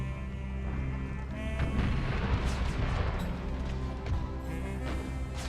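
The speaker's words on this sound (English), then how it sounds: "Howitzers." Howitzer artillery in an Empire: Total War mod keeps firing, a dense run of booms and cracks layered over the rumble of a continuing battle.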